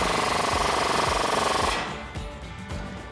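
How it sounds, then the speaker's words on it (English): A hammering power tool with a 19mm deep socket tightening the lower strut bolt on a 2005-2021 Toyota Tacoma during a ReadyLIFT suspension lift install, rattling loudly and steadily for about two seconds, then stopping, followed by faint clanks. "Next, we can tighten up this lower bolt here. I'm gonna use a 19mm deep socket"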